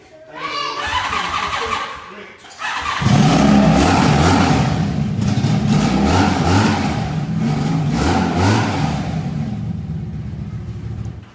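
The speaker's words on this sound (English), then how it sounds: "You get that motorcycle sounding that good, you done did something." A Harley-Davidson motorcycle engine sputters, catches and roars to life, then runs loud and close with repeated revs, some voices mixed in.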